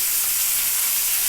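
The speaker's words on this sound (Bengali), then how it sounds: "এখন ফুলকপি গাজরগুলো একটু তেলে ভেজে নিচ্ছি" Cauliflower and carrots frying in hot oil in a pan, a continuous loud close sizzle with steady hiss and no talking.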